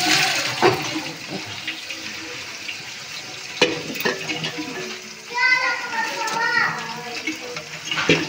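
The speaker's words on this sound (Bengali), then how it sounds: "জলটা ছেঁকে নিব।" Water is strained off pickled jujubes in a home kitchen, a brief splashing pour amid household clatter, while adults and someone talk nearby.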